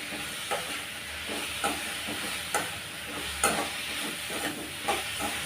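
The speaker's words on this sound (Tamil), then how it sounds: "இப்போ சேர்த்து ஒரு 2-3 நிமிஷத்துக்கு இந்த எண்ணெயிலே நல்லா பாகக்காயை நல்லா வதக்கி விடணும்" Bitter gourd sautés in oil with turmeric, a quiet continuous sizzle broken by regular stirring scrapes and clicks of a utensil against the pan, with no talking.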